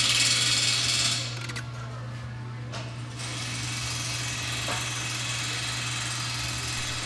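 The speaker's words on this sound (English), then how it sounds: "We're going to zap those 3 10 millimeter bolts out." On a 2017 Ford Expedition, a power tool whirs steadily, close and fairly loud, while spinning out the three 10mm bolts that hold the battery tray. Its pitch and load shift briefly near the start.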